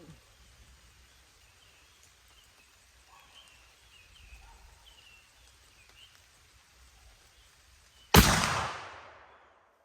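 Quiet outdoor stillness with faint birdsong, then one loud, sharp muzzleloader rifle gunshot bursts out near the end, followed by a booming decay that fades away.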